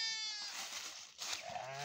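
Sheep bleat as they enter their pen after a day grazing in the forest. Several wavering bleats come one after another at moderate distance, fairly clear against a quiet background.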